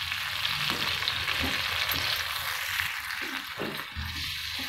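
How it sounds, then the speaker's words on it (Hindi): Marinated chicken for restaurant-style butter chicken frying in a hot pan, a steady loud sizzle broken by repeated scraping stirs of a spoon through the pieces, with no talking. "अब इसमें अपना मैरिनेट किया हुआ चिकन ऐड करना है। इसको मिक्स करना है।"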